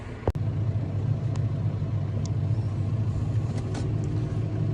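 A John Deere 6130M tractor drives along a road toward a trailer, its engine a steady low rumble throughout with a brief knock near the start, heard close and alone.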